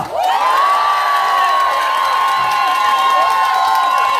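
A large outdoor crowd at a Korean janggu drumming contest roars with sustained cheering and shouts, children's high voices rising through it, loud and steady for the whole span with a blur of clapping beneath.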